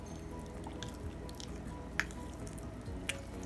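Cold water is stirred into funnel cake batter, making soft, wet squishing and squelching with a couple of small, sharp clicks, fairly quiet and without talk.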